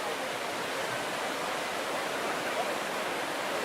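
Storm surge waves on the second day as they ease, rendered as a steady, unbroken broadband roar of churning water with no distinct breaks or pauses.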